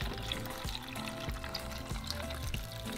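Water pours into a saucepan holding tomatillos and serrano chiles, a steady close filling rush that runs unbroken for about three seconds.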